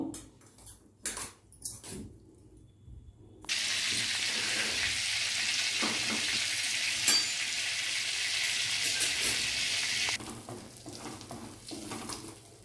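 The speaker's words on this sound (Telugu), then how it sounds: "దీన్ని ఒకసారి ఇలా తిప్పుదాము" Butter heating in a pan for restaurant-style paneer butter masala while a mixture is stirred, a steady loud sizzle taking over after a few seconds of quieter scraping and clinks, then dropping back near the end.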